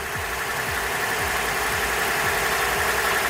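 A car engine runs at steady, slightly raised revs during an alternator charging test, a close, loud, even drone with a regular pulsing throb and no voices.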